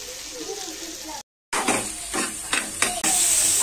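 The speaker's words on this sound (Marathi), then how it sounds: "तर आपले कांदा आणि शिमला मिरचीचं जे फ्राय करायचं होतं ते आपलं झालेलं आहे" Onion and capsicum frying on a tawa for a no-oven pizza give a steady close sizzle, broken by a brief silent gap and a few louder stirring bursts.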